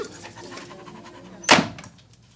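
A dog pants in quick, close, rhythmic breaths, then a sharp thunk like a car door closing cuts in partway through.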